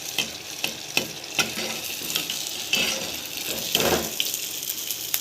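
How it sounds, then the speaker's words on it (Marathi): Jaggery anarsa frying over a low flame in a mix of oil and ghee, with hot fat spooned over the top: a steady bubbling sizzle broken by repeated light ladle clicks and pouring splashes, no one speaking. "कमी गॅस ठेवलेला बघा याप्रमाणे आपण असं तेल त्यावरती टाकायचं आहे"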